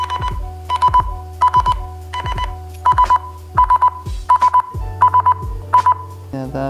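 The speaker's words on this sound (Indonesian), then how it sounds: "Kita coba fitur untuk mencari device kita. Bunyi guys." A cheap smart bracelet gives a run of repeated short electronic beeps in a steady pattern, triggered by the phone's find-device feature, heard up close with a low hum beneath and no talk.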